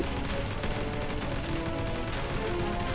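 Sustained gunfire in the shooter game Crisis Action, aimed at a boss in a PVE mission, rattles continuously and loudly for a few seconds, dense overlapping shots with no talking.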